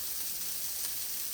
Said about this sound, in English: we put the rest of those meatballs in. Let them get cooked up. Okay, let them get brown